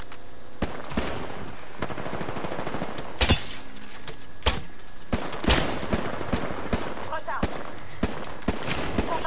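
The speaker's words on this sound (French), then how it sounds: "Je suis sous les tirs." Gunfire in the Apex Legends video game, with bursts of automatic fire and separate sharp shots scattered through the clip, mixed with game effects at a moderate level.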